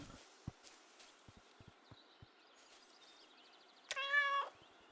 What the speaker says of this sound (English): Alert meow.